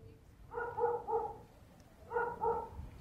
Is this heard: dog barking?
yes